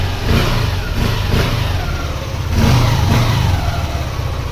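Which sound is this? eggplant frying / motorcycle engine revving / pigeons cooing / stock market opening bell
motorcycle engine revving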